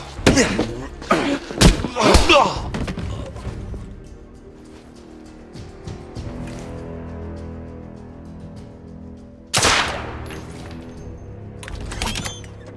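Gunfire in the video game The Order: 1886: a cluster of sharp, loud shots and impacts in the first few seconds, a quieter rumbling lull, then another sudden burst of fire later on.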